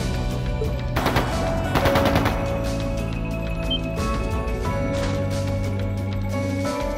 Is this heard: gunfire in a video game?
yes